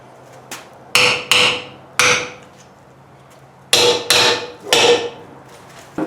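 A hammer strikes hot aluminum on an anvil during forging, sounding as sharp, ringing blows in two clusters of three or four, each with a short metallic decay, close and loud with quiet pauses between.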